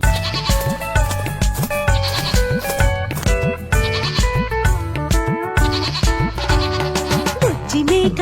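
A goat bleats repeatedly in rhythmic, wavering cries set into bouncy, loud children's rhyme music, which plays throughout.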